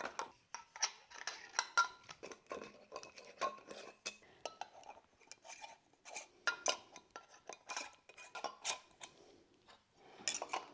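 Lids go onto containers of tallow, producing quiet, close clicks, taps and light plastic snaps in irregular bursts, with brief pauses between handling sounds and no talk.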